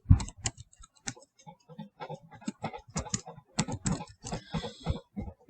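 Irregular bursts of keyboard typing while entering names on a Google Slides presentation slide, clicky keystrokes in quick clusters with short pauses, close and moderately loud.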